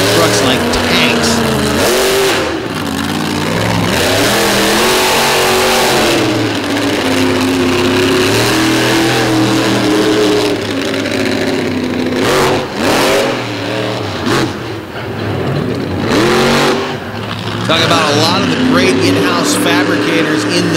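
A heavy green monster truck, built like a tank on a Corey Rummel chassis, roars and revs at a monster truck show, its loud engine surging and droning for a long stretch under an announcer's continuous commentary.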